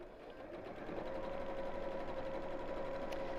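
A domestic sewing machine stitches a fabric cushion cover, running at a steady motorized hum with a sustained whine throughout, loud and continuous with no talk.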